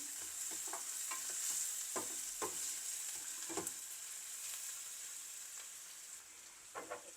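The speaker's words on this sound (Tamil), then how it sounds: "வெங்காயம் வதங்கட்டும் வெங்காயம் கொஞ்சம் பாதி வதங்கிட்டு இன்னும் கொஞ்சம் காவாசி வதங்கணும்" Onions sautéing in a pan for a curry-leaf prawn masala give off a steady sizzle, with scattered scrapes of a stirring spoon and a few louder clinks near the end, no voices.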